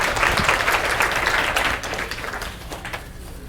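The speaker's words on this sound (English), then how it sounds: "Give him a nice round of applause." Applause at a humor seminar for a game winner fills the room, a dense, even wash of many hands clapping that drops somewhat in loudness midway and continues more softly.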